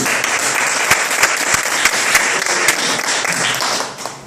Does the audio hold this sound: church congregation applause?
yes